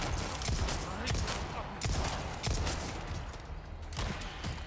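Rapid video-game gunfire from the Resident Evil 4 remake, Separate Ways, fills the scene as a dense, continuous barrage of overlapping shots with several sharper bursts, heard at steady close range.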